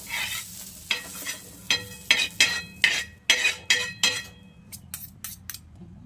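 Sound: stirring fried onion with coriander in a pan

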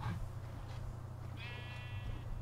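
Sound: sheep bleating in Minecraft video game

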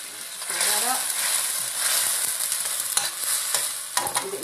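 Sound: stirring smoky kale and garbanzo beans in a pan

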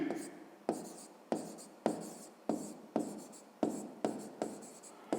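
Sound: pen writing numbers on paper

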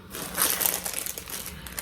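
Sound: plastic bag crinkling

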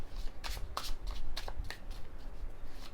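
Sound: shuffling tarot cards

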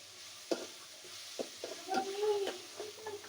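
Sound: meat frying in oil

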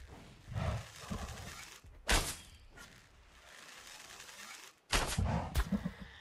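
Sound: shots fired in the video game ARK

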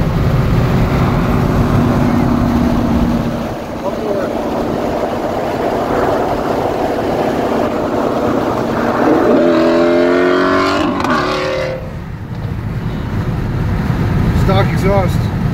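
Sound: Shelby GT350 car exhaust

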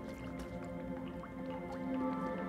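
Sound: water dripping in the video game Little Nightmares 2

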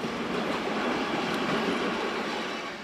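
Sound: German Class 111 electric locomotive hauling train at Innsbruck

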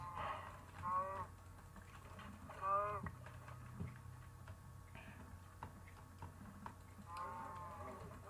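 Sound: cow mooing in the video game Minecraft

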